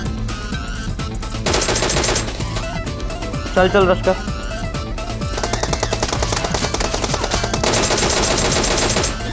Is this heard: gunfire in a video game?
yes